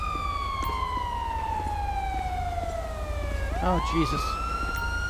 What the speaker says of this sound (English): how many of these cars have their sirens still going?